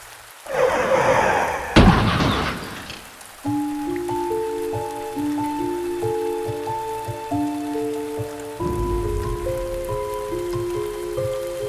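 Rain pours at night in a cartoon scene, a loud burst of downpour with a crash near the start before sustained musical tones take over, with the rain hiss continuing underneath.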